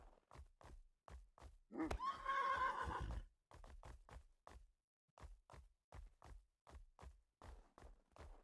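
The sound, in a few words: horse neighing in video game Mortal Online 2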